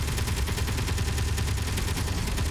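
Assault cannons firing at a rover in a video game, a loud, rapid, unbroken stream of heavy shots with booming low end, close and steady for the whole stretch.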